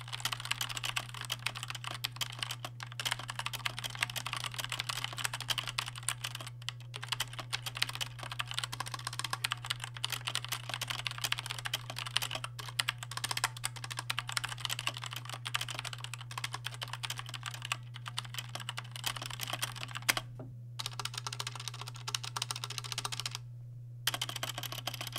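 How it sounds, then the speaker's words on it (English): Steady, continuous clatter of typing on a stock GAMDIAS Hermes E3 mechanical keyboard, close and fairly even, with brief pauses near the end over a low constant hum. "Here's what the keyboard sounds like stock."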